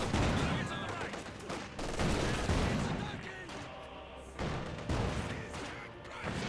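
Gunfire from a T-70 light tank and combat engineers in a Company of Heroes 2 battle, dense overlapping bursts and shots continuing throughout with a commentator's voice talking over the fighting.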